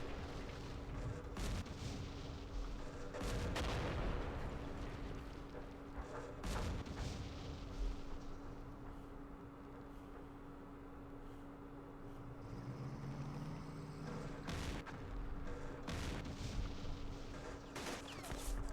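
A gun firing in the wargame Campaign Series West Front, set at Aachen on the West Wall: several separate heavy booming shots spaced seconds apart over a steady low background hum.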